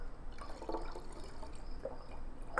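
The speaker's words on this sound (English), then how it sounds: "we're gonna add 4 ounces of orange liqueur" Orange liqueur poured into a freezer-door margarita mix, a few short splashing, trickling liquid sounds, fairly faint and close, with quiet gaps between them.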